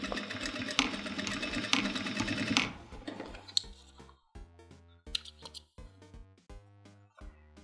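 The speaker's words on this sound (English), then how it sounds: "just stitch back and forth a few times" Sewing machine stitching a jeans waistband in quick bursts: a steady whirring run for about two and a half seconds, then a string of short start-stop stitching pulses with small clicks in between.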